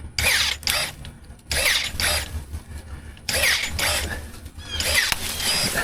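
Sundpey Pro 21V lithium electric pruner biting repeatedly into a big branch at its root, with four loud bursts of motor whine and snapping wood separated by short pauses, close up.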